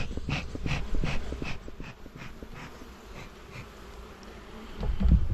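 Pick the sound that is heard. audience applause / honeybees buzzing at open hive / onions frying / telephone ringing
honeybees buzzing at open hive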